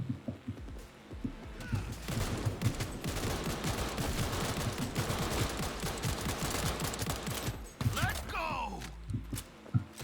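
Sustained automatic rifle fire in Cyberpunk 2077, dense rapid bursts running almost continuously over several seconds with a brief pause near the end, loud and close, with a voice talking over part of it.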